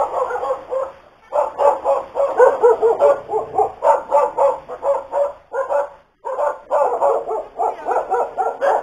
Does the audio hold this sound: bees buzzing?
no